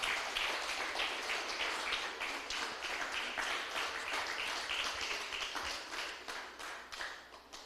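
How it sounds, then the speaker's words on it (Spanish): Congregation in church applauding in praise, many hands clapping in a steady, dense wash at moderate volume, with a few sharper claps standing out near the end. "Denle un aplauso fuerte al Señor, aleluya"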